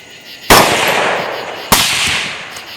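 Two loud, sharp rifle shots from a CMMG chambered in 22 Nosler, about a second apart, each a hard crack followed by a long decaying outdoor echo, with no talking.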